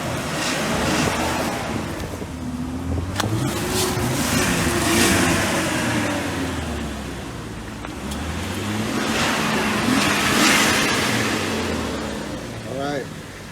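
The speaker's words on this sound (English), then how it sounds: "this is a preview sound with the stock exhaust" A Jeep Cherokee XJ engine rumbles steadily through its stock exhaust, the note rising and falling over two swells of revving, with wind and outdoor noise mixed in.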